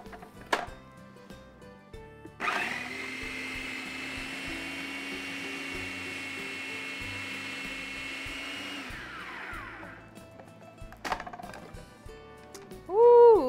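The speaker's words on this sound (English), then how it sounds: "let's get all of this blended together" A kitchen blender whirs loudly and steadily for about six seconds, blending maple syrup, allspice and peanut sauce. A clunk comes before it starts and a couple of knocks follow after it winds down.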